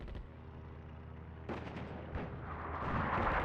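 Artillery fire in the North Africa real-time strategy game Attack at Dawn: a low booming report followed by a rumbling, noisy tail that swells toward the end, heard fairly loud with no talking.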